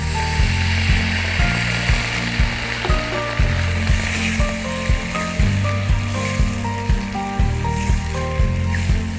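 Chicken sizzles and fries steadily in a pan with chicken stock, loud and close, with a repeating clattering rhythm of stirring or scraping throughout and no talking.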